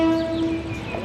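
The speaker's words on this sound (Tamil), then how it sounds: "நம்மளோட ட்ரெயின் வந்துருச்சு. அங்கே பாருங்கள் சவுண்டு கொடுக்குறது கேட்குதுங்களா." A train pulling into a platform in Ayutthaya, Thailand, sounding a sustained steady horn tone over rumbling rail noise, close and continuous.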